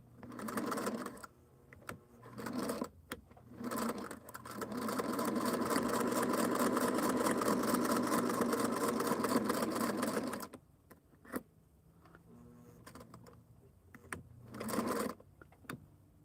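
A sewing machine stitches down a Halloween hexie table topper, starting with short bursts and then running steadily for about six seconds before stopping, followed by a few quieter stray noises.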